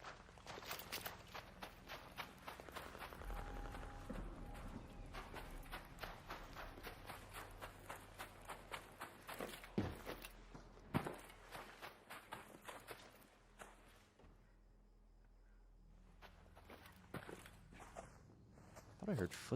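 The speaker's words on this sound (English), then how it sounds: "I heard footsteps." Rapid footsteps in a competitive shooter-style video game, a steady run of crisp, fairly loud steps with a few heavier thumps, running under continuous talk for most of the stretch.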